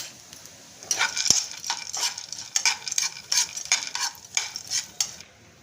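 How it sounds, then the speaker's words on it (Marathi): Cashews frying in a small amount of ghee, with a spoon stirring and scraping the pan in repeated bursts over a soft sizzle, and one sharp metallic clink early on. "त्यात आता आपण हे काजू तळून घेऊया।"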